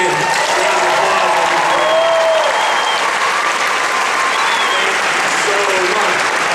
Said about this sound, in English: if you'll give them a big giant round of applause